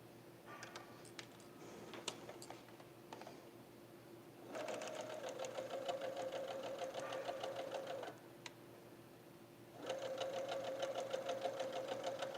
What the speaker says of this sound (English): Now let's go ahead and sew that